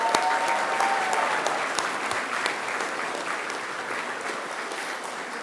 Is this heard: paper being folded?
no